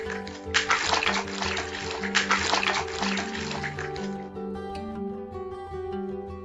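Stones tossed into water in an animated children's story about an ant, giving a burst of splashing and watery noise over steady background music, then fading as the music carries on.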